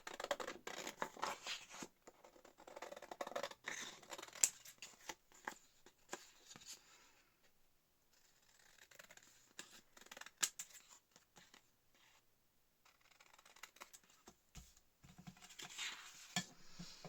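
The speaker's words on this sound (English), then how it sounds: "I'm just going to trim around the edges." Scissors trim around the edges of a paper tag in quiet, close snips and rustles, coming in irregular runs with short pauses, soft throughout and without talk.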